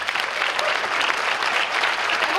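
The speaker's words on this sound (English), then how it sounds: "Give them a round of applause for lighting up." Audience applause for a choir at a fall concert, a steady dense wash of clapping hands filling the room at even volume throughout.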